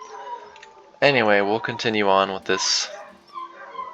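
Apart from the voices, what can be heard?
dogs barking and whimpering in the background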